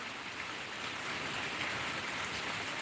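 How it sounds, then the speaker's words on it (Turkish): Steady rainfall pattering on surfaces in a village, a soft, even hiss that continues throughout with no voices. "Yağıyor, bereket yağıyor."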